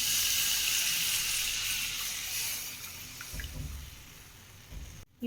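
Reserved water from boiling turkey berries in a pressure cooker is poured into a pan, a steady close liquid splash and trickle that fades and ends with a brief knock.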